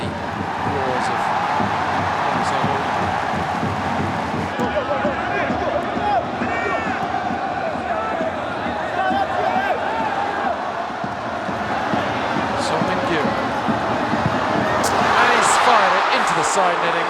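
Football stadium crowd at a K League 1 match between Seoul and Bucheon, a loud continuous wash of applause and crowd noise that swells near the end, with commentary voices talking over it.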